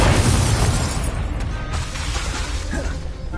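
A fire spell cast in a Hogwarts wizarding video game bursts out as a loud, dense roaring whoosh of flame that fills the whole moment, with scattered crackling pops riding on top.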